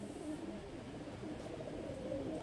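Soft, low cooing from a male Ambasira pigeon rolls on continuously, quiet and slightly muffled, with no speech over it.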